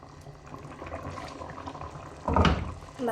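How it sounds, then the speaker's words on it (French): Water is poured into a thick, pasty mixture simmering in a pot. A low bubbling leads into a louder splashing pour near the end. "je vais rajouter un peu d'eau parce que c'est trop pâteux"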